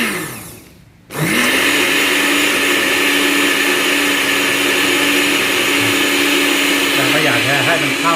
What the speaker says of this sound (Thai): จริงๆแล้วเราปั่นให้ละเอียดนิดนึงเสร็จแล้วก็กรอกใส่ขวดแล้วก็เขย่าก็ได้